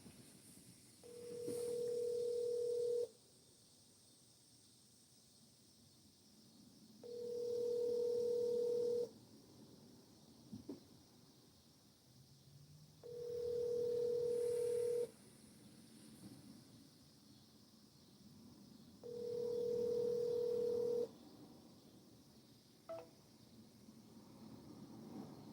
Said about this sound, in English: Oh, we could call Rich, yeah